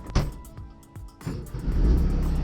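A bus engine cranks and fires right up, with a few short sharp clunks before it catches into a low, building rumble that holds near and fairly loud.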